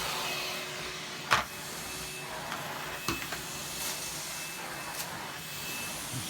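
A Numatic Henry Cordless vacuum cleaner runs indoors during a full house clean, a quiet, steady motor hum broken by a few sharp clicks and knocks as the nozzle bumps around.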